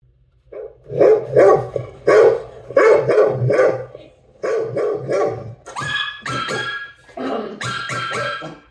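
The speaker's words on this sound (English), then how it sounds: "this is what it would sound like if you were using the Jabra Evolve2 65 and there were dogs barking in the background" Several dogs barking in bursts in the background, picked up through a Jabra Evolve2 65 headset microphone; repeated loud barks and yips with brief pauses, no talking.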